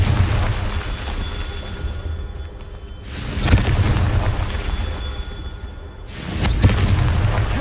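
Two heavy booms from the Confringo spell in Hogwarts Legacy burst out a few seconds apart, each a loud broadband blast that rumbles and fades over a background of game ambience.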